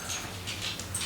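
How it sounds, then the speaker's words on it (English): Bear, a pet dog, laps water noisily from a bowl in a home kitchen, making rapid, splashy, close-up slurping bursts with no talk over them. "You guys hear my dog? He's the loudest drinker, I swear."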